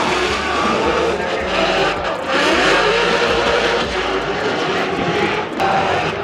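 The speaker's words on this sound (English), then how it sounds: "It's hard to hear it over the loud ass Mustang, but the Ferrari does sound sick" Loud engines revving and roaring at a Formula Drift event, a yellow Ferrari mixed with a louder Mustang, with a continuous dense drone and surging throttle under crowd ambience.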